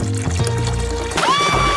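Cola pours out of a bottle in a steady liquid stream, close and loud, with a rising gurgle toward the end as the flow changes.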